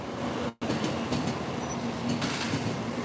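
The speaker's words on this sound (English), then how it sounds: "Here comes another Shinkansen going by real fast." A Shinkansen bullet train rushes past at speed through Nagoya Station, a broad continuous roar of air and wheels with a short clatter of rail joints, close and sustained.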